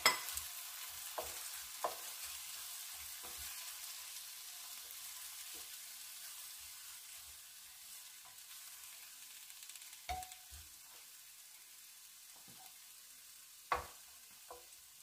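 Mixed vegetables fry in a little oil for Nigerian meat pie filling, a soft, steady sizzle with occasional clinks and scrapes of a spoon stirring the pan, no talking.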